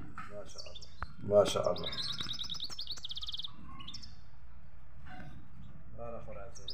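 Short, bright chirps from a goldfinch sounding close, scattered in bursts across the clip, while someone speaks quietly over them.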